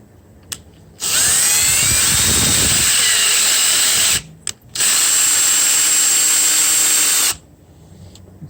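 A power drill whirs loudly in two long bursts separated by a short pause, with faint grinding and clicking around the edges, honing the cylinders of a Mopar 360 engine; the drill slips a little.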